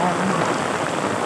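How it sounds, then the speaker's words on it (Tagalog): Steady rain falls in a constant, dense hiss that fills the whole moment, close by and fairly loud, with no talking over it. "Kaya inabutan ako ng ulan."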